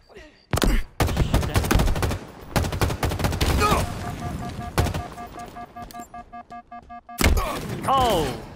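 Rapid bursts of gunfire in the shooter Halo Infinite, loud close volleys of automatic shots broken by brief pauses, with sharp single booms and electronic weapon tones mixed in.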